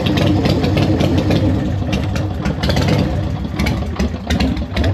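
Engine of a 1984 Harley Davidson FLT Tour Glide motorcycle idling loudly and close after starting, with a steady rough throb and slight lumpy variation in the beat throughout.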